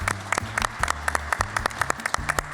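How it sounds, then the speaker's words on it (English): A live audience applauds for Becky Reed with a burst of close, sharp hand claps and uneven peaks, over a low hum and some murmur from the crowd. "please give a round of applause for Becky Reed"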